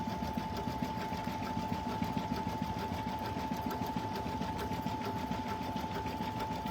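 Sewing machine stitching through multiple layers of fabric for a soft toy, running as a steady, continuous mechanical whir with a fast needle rattle, close and even, with no talking.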